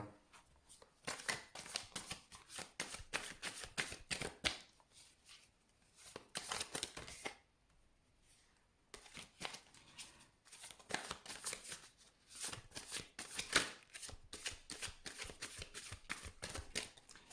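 Tarot cards are shuffled in long runs of rapid, crisp riffling flutters near the microphone, with a brief quiet pause midway.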